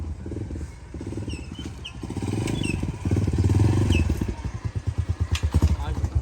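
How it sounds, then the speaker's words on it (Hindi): A motorcycle engine runs with a throbbing, pulsing note that rises as the bike pulls away, close by in a rural village. "तैयार हो गई है बाइक हमारी"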